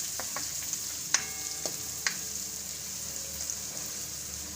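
Green turmeric and asafoetida frying in oil as they are stirred, a steady close sizzle broken by a few sharp utensil clicks against the pan.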